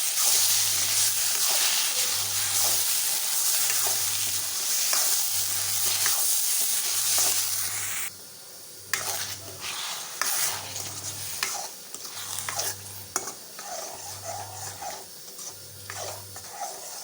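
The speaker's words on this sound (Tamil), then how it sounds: "அது நல்லா வறுப்பட்டதுக்கப்புறமா தேங்காய் பூவும் அதில் போட்டு வறுத்துட்டு" Rava, grated coconut and moong dal roast in ghee for kesari while being stirred, making a steady close sizzle with scraping strokes and a low rhythmic hum underneath, and no one speaking.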